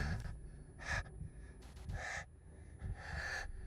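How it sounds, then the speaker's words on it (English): A man breathes heavily in a scene from Lucifer, with several distinct gasping inhales and exhales spaced about a second apart, close and otherwise quiet with no talk. "Just him breathing."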